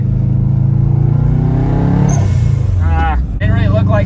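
A turbocharged Subaru Forester STI engine revs and pulls under acceleration, a steady loud drone rising in pitch, with brief interior clatter and a short dip in level near the end.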